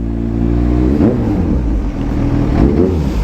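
A Kawasaki ZH2 motorcycle engine runs loud and close on a test ride, rising and falling through two revving surges with a rough mechanical rumble, and no talking.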